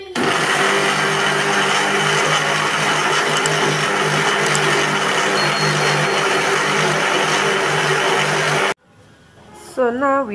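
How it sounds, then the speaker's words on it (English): A kitchen blender whirs loudly and steadily while blending onions, shombo and pepper, running continuously for about nine seconds before cutting off abruptly, followed by brief faint sounds. "I'm just cutting onions into the blender so that I can blend all together with the shombo"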